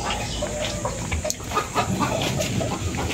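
Free-range native chickens kept among banana trees on a provincial farm cluck and call repeatedly, close and fairly loud, over a constant low rumble of outdoor background noise.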